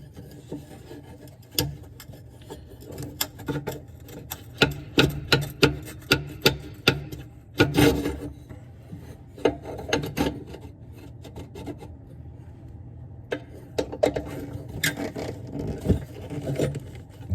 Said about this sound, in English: So now we're going to install the air tube back in. You slide it in.